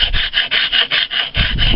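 A file rasps over the rawhide wrap of a tanto handle in a steady series of about eight rhythmic strokes, each a bright scraping rub, close and fairly loud with no talk.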